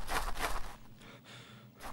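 Heavy, quiet breathing from a character in a scary video game, a couple of sharp huffing breaths followed by softer panting.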